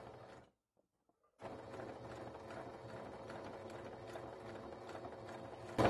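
A domestic sewing machine stitches piping onto fabric, its steady rattling mechanical run starting after a brief pause and continuing close and moderately loud to the end.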